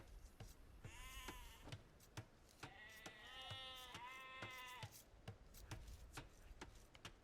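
Sheep bleat twice in a strategy video game, a pair of clear, fairly loud bleats over a background of steady mouse clicks and faint game noise.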